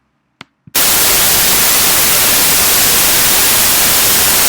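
After a couple of soft clicks, loud broadband white noise played for a pitch demonstration bursts in and holds steady and unbroken to the end.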